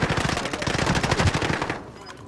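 Rapid automatic gunfire in the video game Warzone, a dense burst of shots that cuts off after about two seconds.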